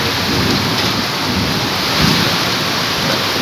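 Steady heavy rain pours continuously at a dam, with a low rumble of thunder rolling underneath and swelling briefly.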